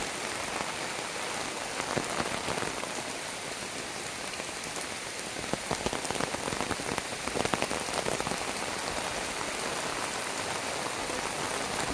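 Rain falls steadily in a monsoon downpour, a dense even hiss of drops pattering on surfaces nearby, continuous and moderately loud with no voices.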